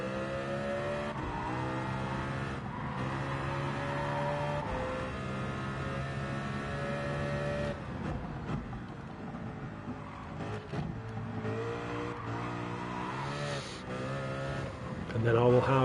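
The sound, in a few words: Mercedes CLK GTR race car engine in video game Gran Turismo 7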